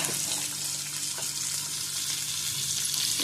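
Onion dropped into a hot pan for egg bhurji hisses in a loud, steady close sizzle that holds throughout.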